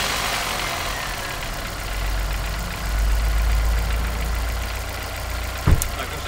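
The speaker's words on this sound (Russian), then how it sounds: "давайте заведу движок" Car engine idling after new high-speed LPG injectors were fitted: a steady, close, low rumble with a slight surge midway and one sharp click near the end.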